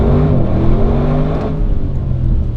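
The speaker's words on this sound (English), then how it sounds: "Let's try a launch control." An Audi RS6 GT wagon launching hard under launch control, its engine note loud and close from inside the cabin, with a steady harmonic roar that climbs through the revs and shifts about halfway through.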